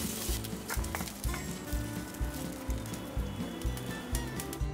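Garlic frying in oil in a pan while cooking gongura paste, a steady close sizzle with rhythmic scraping and stirring knocks of a spoon against the pan.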